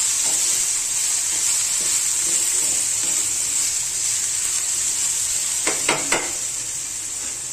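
Red chili drops into hot oil with potatoes for a Navratri fasting potato dish, giving a steady, even sizzle throughout and a few quick utensil clinks near the end, with no talking.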